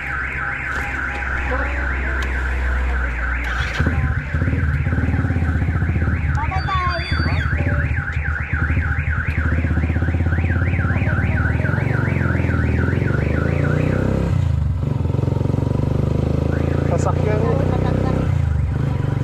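A car alarm wails with a rapid warbling siren for several seconds, loud and nearby, while people talk and an engine rumbles underneath.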